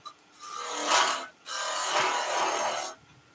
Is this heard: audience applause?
no